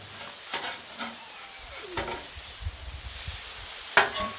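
Chicken smash burgers sizzle steadily on a Blackstone griddle, pressed with a bacon press, with a few sharp scrapes and clicks of a giant spatula cutting through the frying hiss; no talking.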